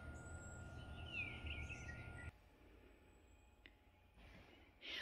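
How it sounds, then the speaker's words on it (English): Birds chirp and sing in the open air beside a waterfront porch, faint and somewhat distant over a low steady background hum that drops partway through, with no speech. "Listen to the birds."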